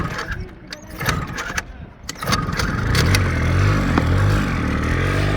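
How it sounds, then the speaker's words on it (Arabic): Motorbike engine starting up outdoors, with clatter and scraping at first, then the motor catches at about three seconds and settles into a steady, loud low idle. "راح اشغل الموتور"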